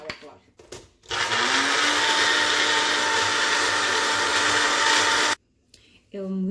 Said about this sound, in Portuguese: as minhas alcaiocas já estão cozidas e vou tentar ralar aqui assim nessa maquinazinha